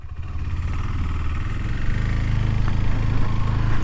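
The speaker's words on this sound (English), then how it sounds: "What do you guys think of the sound of this thing?" KTM 390 Adventure motorcycle engine running close by, a steady throbbing idle with a rapid pulsing beat that grows slightly louder and fuller toward the end, heard alone without talk.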